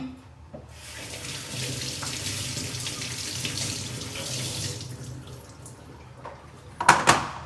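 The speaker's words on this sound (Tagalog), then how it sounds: "Hugasan muna natin ang carrots para fresh mga Erin Banbanon" Carrots are rinsed under a running kitchen tap, a steady splashing water stream for several seconds, then the flow stops and a few sharp clatters of handling follow, no talking.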